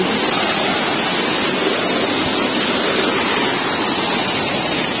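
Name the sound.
Lumondo Falls waterfall, Alegria, Surigao del Norte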